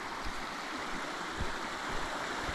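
A river in Zion National Park rushes steadily in a broad, even wash of flowing water, close and continuous with no voices.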